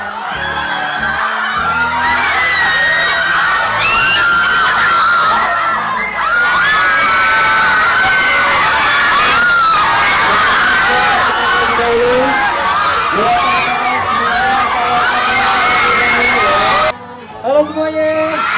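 A large crowd of girls in Bandung screams hysterically at a young actor's appearance, loud shrill cheering and whoops piled into a continuous roar that cuts off abruptly near the end.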